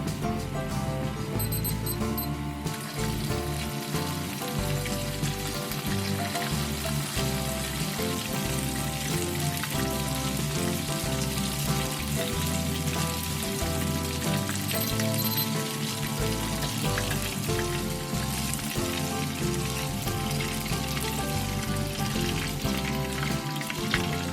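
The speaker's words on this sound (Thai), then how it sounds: "ทอดโดยการกลับด้านไปมานะคะ ประมาณ 4-5 นาทีค่ะ" Japanese karaage chicken pieces deep-frying in hot oil while being turned, a steady dense crackle and sizzle that stays loud and even throughout, with no voices.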